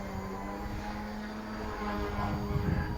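An XK K130 RC helicopter motor runs under throttle, a steady faint whirring drone with slight rise in intensity, heard alone at a low level.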